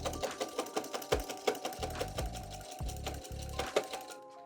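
A domestic sewing machine stitches a sweatshirt seam up to the armpit in short bursts of fast, steady needle chatter, with pauses and small handling clicks between runs, close and clear with no talk.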